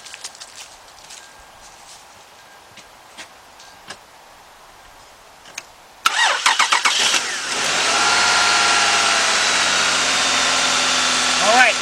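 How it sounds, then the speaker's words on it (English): A Toyota car engine, jump-started with jumper cables after an alternator replacement, cranks abruptly and catches into a loud, steady idle, following a stretch of quiet ticking and faint background noise. "I want to see if it starts it up just by jumping it by itself"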